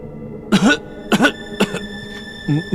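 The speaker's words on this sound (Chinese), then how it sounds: "一直咳嗽不停" Coughing from someone with a cold, four or five hoarse, voiced coughs spaced about half a second apart, close and loud.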